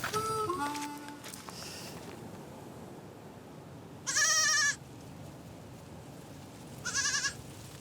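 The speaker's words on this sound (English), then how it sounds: "Every day, he follows the same route to herd his goats." Goats on a farm in the Apalaanchis countryside of Colombia let out two distinct, wavering bleats a few seconds apart, fairly close, over quiet outdoor ambience with faint chirping early on.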